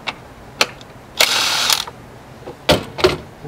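A ratchet loosens 10mm nuts on the plastic engine cover of a Toyota Corolla: close, sharp bursts of rapid metallic clicking separated by pauses, with single clicks between them.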